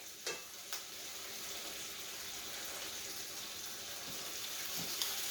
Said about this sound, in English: what you can't ignore is the sizzling of that bacon